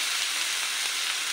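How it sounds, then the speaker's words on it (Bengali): Washed meat goes into a pan of sizzling spices, making a loud, close, steady hiss of hot frying over a short stretch. "মাংসগুলো এবার দিয়ে দেবো"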